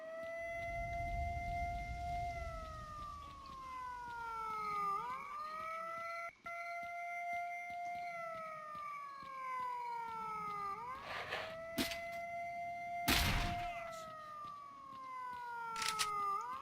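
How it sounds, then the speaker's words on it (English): A wailing siren in the S.T.A.L.K.E.R. game rises and falls in long, slow sweeps. It runs steadily throughout and is loud enough to dominate, with a few sharp bursts of noise breaking in now and then. "God, that siren is annoying"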